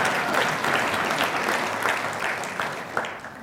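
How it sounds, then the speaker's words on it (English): A crowd applauds steadily at a ten-year master plan presentation, dense even clapping from many hands that tapers slightly at the end. "Clap for that, too."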